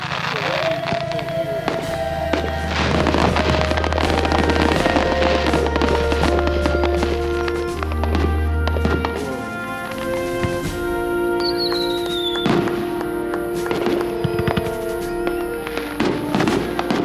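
Independence Day fireworks burst over a dam, loud crackling and booming, with a low drone and faint voices beneath it, heard from a spot up on the dam.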